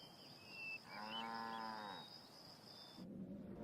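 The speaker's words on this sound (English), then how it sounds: "the most European of farm animals, the dairy cow" A dairy cow gives one long, low moo of about a second against faint outdoor ambience, moderately distant and alone, with no voices.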